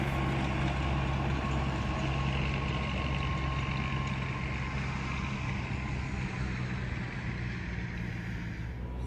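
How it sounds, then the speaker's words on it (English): Steady engine drone of a tractor rolling along a rural road in Lancaster County, a continuous low rumble with a faint whine, fairly close and unchanging, with no talk over it. "And there goes a tractor down the road during the eclipse."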